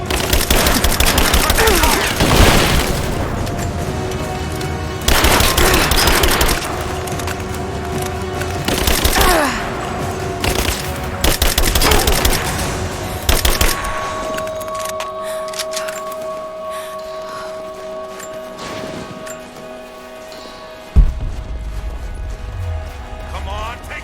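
Loud automatic gunfire from the video game Rise of the Tomb Raider fires in dense rapid bursts during a firefight. It thins to scattered shots and a sharp crack later on, with voices at times.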